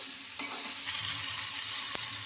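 Green chillies fry in a pan with garlic cloves, giving a loud, continuous sizzle with a few scraping stirs mixed in, close and without any voices.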